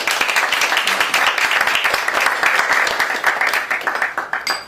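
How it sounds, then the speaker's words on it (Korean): At the founders' meeting of a Korean forum, a crowd gives loud, dense applause to welcome a visiting National Assembly member. The clapping is a full, sustained roar from start to finish. "박수로 안내해 주시기 바랍니다."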